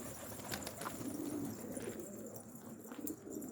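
Domestic pigeons in a coop give soft, low cooing calls, faint and close by, with a few brief rustles against quiet background noise.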